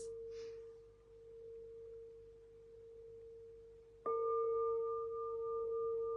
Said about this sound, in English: let's just bring in some nice tones and frequencies as well